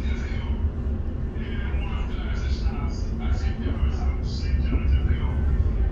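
An Arriva Rail London class 710 electric train runs with a low, constant rumble and rattling under a recorded onboard announcement and passengers' chatter.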